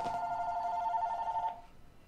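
A telephone rings in a steady electronic tone, one long burst that holds for about a second and a half before cutting off, fairly close and clear with no talk over it.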